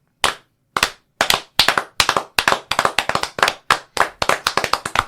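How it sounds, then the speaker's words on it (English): A small group of people clapping for John, irregular sharp hand claps that start sparse and build into a quicker, overlapping burst, close and loud with no talking. "I think we all need to clap for John a little bit"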